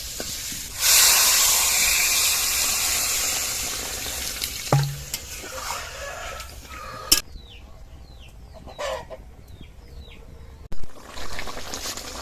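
Water is poured onto potatoes frying in spices, setting off a sudden broad sizzling hiss that carries on and slowly fades. Occasional utensil clanks punctuate it.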